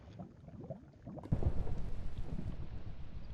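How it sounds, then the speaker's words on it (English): Minecraft thunder: a quiet rumble swells, then a louder crack hits and rolls on as a sustained, steady roar of storm noise that continues to the end. "I've just logged on and it's thundering"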